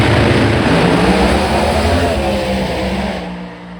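A drag race car launches hard off the line, a loud, sustained engine roar with rising revs that dominates up close before easing slightly toward the end.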